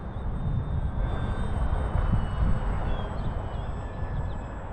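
A radio-controlled model airplane flies in high wind. A faint, thin motor whine drifts under a steady rush of gusting wind, with no talking.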